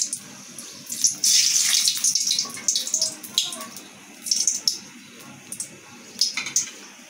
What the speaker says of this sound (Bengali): শুকনা মরিচ দিলাম গোটা, একটু লাল করে ভেজে নেব